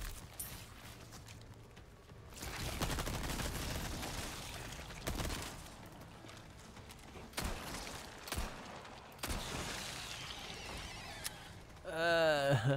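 Gunfire in Resident Evil 4 Remake, scattered sharp shots and mechanical clatter spread across the stretch with quieter gaps between, ending in a louder burst.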